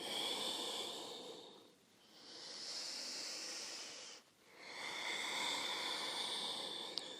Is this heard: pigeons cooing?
no